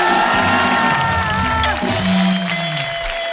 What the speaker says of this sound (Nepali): ल ल, यहाँ ताली नै बजाउनु भयो